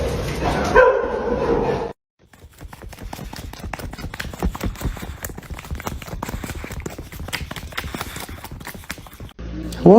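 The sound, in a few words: dog barking excitedly over McDonald's fries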